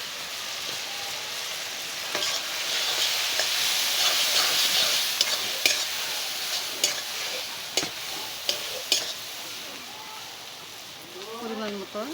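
Spices fry with chopped tomato and salt in a pan for a goat meat curry, giving a steady soft sizzle. Scraping stirs and clinks of the spoon rise over it, with faint bubbling toward the end.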